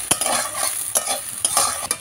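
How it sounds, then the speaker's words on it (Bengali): Soybean chunks frying in oil, loud close sizzling broken by four sharp spoon-scraping stirs at roughly half-second intervals, with no voices. "সয়াবিনটা ভালো করে লাল লাল করে ভাজা হয়ে গেছে"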